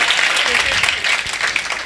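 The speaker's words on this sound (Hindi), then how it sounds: "एक बार इरशाद अंजुम साहब के लिए आप एक बार ताली बजा के बता दें" Audience applause at a poetry gathering, a dense, steady wash of many hands clapping, loud and sustained throughout with no break.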